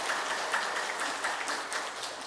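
Church congregation applauding during a Sunday worship service, a steady wash of many hands clapping at moderate level for a couple of seconds with no voices over it.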